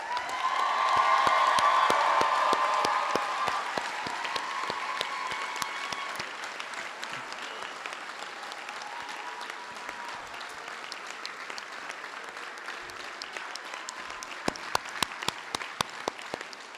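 An audience at a 2023 hospital health science school graduation ceremony applauds the graduates, a dense wash of clapping that swells early and then thins into scattered claps, with a few voices in the background.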